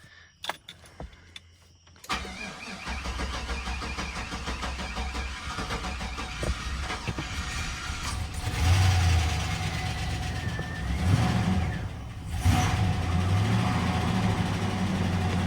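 A car with a freshly rebuilt 4L60E transmission cranks briefly, fires and settles into a rough, steady idle with a few revs, heard up close and with no talk.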